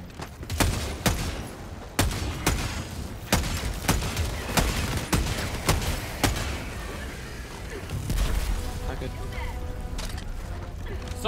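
Rapid gunfire in Helldivers 2 aimed at a rocket devastator, sharp shots in an irregular burst with a steady mechanical rumble beneath, fairly loud and close.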